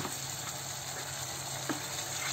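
Red chilli powder and coriander powder masala roasting in a pan for dum aloo makes a soft, steady sizzle, quiet and even throughout, with a faint scrape or two and no talking.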